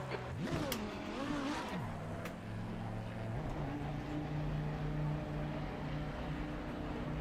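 A GT race car engine in the Assetto Corsa Competizione racing game fires up at a rainy Monza, with a rising, wavering whine settling into a steady, low idle hum, close and moderately loud, without talk.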